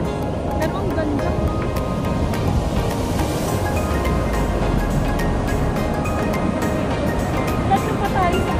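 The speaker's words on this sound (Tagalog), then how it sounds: "Ang ganda ng alon ngayon kaysa kanina. Ang lakas na ngayon, oh. Super lakas." Strong ocean waves break on the beach at La Union, a steady, loud, broad wash of surf with a deep rumble swelling midway, while people talk over the roar.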